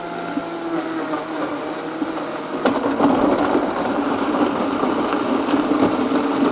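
A Vitamix blender runs blending a mixed berries smoothie, a steady motor whir that grows louder and rougher midway as the load shifts, continuous and close.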